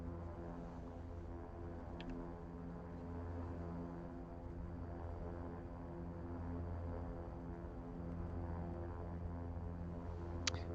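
Propellers of a Super King Air 350 in the X-Plane 11 flight simulator, a steady droning turboprop hum with layered harmonic tones, faint and continuous, gradually building slightly in loudness with a couple of small clicks.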